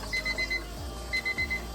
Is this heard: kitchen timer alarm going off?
yes